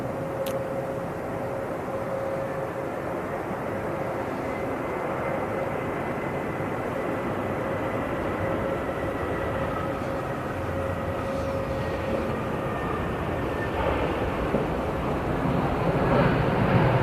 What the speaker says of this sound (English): Yeah, it's a Ryanair 737 from